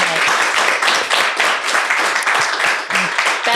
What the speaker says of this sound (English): Let's give them a little bit of applause for coming tonight.